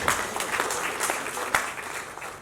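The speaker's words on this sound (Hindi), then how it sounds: "एक बार जोरदार तालियां बजाइए।" Applause from an audience at an Azadi Ka Amrit Mahotsav award ceremony, moderately loud and steady with scattered sharp claps, lasting a couple of seconds.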